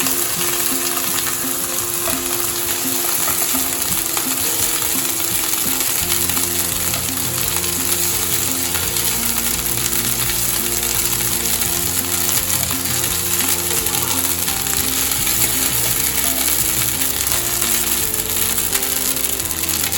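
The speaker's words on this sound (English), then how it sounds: "After frying it for 2 to 3 minutes, when you see that paneer is changing its color to red" Paneer fries in hot oil in a pan with a continuous, even sizzle and crackle, close and steady throughout, with a faint background hum beneath it.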